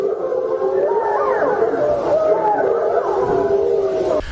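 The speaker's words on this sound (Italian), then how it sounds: "I versi che sentite sono il canto dei lupi dell'Appennino che ululano alla superluna di maggio." Apennine grey wolves howl at the May supermoon, several long wavering voices overlapping and gliding in pitch, loud and continuous against the night with no talk.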